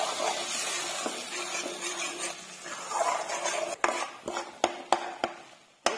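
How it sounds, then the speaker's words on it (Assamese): Tomato paste frying in a pan while a utensil scrapes and stirs it in a steady, close rasp, ending with several sharp metallic clinks and knocks. "এটা বিলাহি পিচটো ধুনীয়াকৈ ভাজি লম।"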